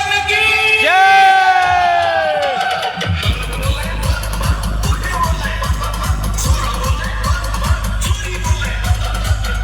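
A crowd of kanwar pilgrims at a kanwar procession lets out loud, rising whoops and cheers, then gives way to heavy, rhythmic DJ bass thumping with crowd noise beneath.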